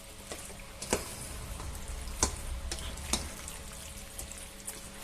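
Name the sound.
stirring chunky pork pasta in sauce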